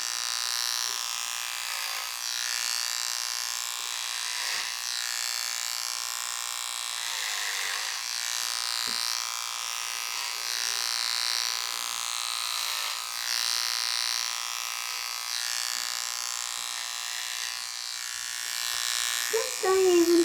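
Microtouch Titanium Trim electric trimmer buzzing continuously close up as it cuts a young boy's hair, a steady high whine shifting slightly as it moves against the head, with occasional faint voices.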